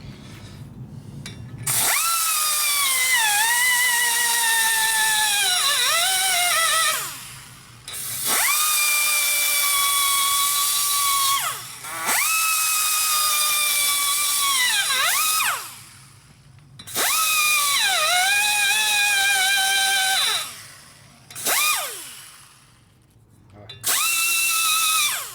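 A power tool smooths rough metal on a stroker shovelhead big-bore Harley motor, whining loudly in several long bursts that rise and fall in pitch, with short pauses between them.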